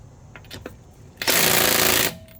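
A drill spins up in one loud, close, sustained burst of just under a second, loosening 22 millimeter brake bolts on a 2011 Lexus ES350, after a few soft knocks and rustles.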